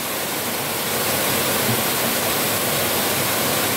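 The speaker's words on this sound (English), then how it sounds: "Oh wow, some phenomenal views of the waterfalls here." Waterfall cascading down rocks at Rouken Glen Park, a steady, loud, broadband rush of falling water filling the whole stretch with no pauses and no voices.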